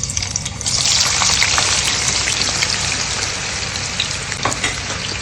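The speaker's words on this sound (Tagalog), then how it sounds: "mainit na yung ating kawali ng oil. So, ilalagay na natin yung ating patatas." Potato pieces frying in hot oil in a pan, a dense, steady sizzle and crackle running continuously and loud, with occasional sharper pops.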